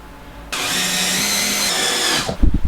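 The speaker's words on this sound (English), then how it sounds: "now I just need my drill." A power drill whirs loudly and steadily for about two seconds up close, then stops, followed by a few dull knocks.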